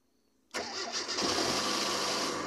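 After a near-silent pause, a car engine cranks and catches abruptly, then settles into a loud, steady idle close to the microphone.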